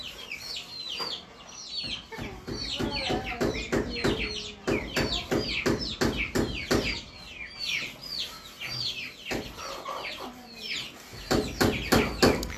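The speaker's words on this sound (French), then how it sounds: "Voilà les poussins qu'on a eu hier." Hens and newly hatched chicks on a farm, steady overlapping clucks and high peeping chirps close by, dense and continuous throughout with a few sharper calls.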